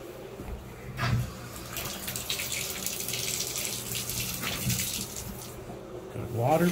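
Water running from a kitchen faucet in an apartment, a steady hiss of flowing water into the sink, fairly quiet and close, with a couple of brief clunks and a rising swirl near the end.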